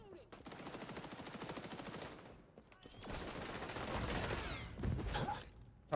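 Rapid automatic gunfire in the shooter game XDefiant rattles in long bursts, broken by short pauses and sharper closer shots, with a player talking now and then.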